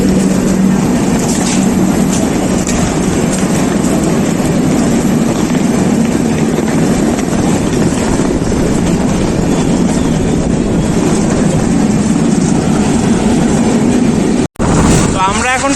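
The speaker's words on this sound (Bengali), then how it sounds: "এখন আমাদের ট্রেন ছেড়ে দিল বালাসোর স্টেশন থেকে।" A passenger train pulls out of Balasore station, its steady loud rumble and rolling clatter running unbroken from near inside the carriage, with a brief dropout near the end.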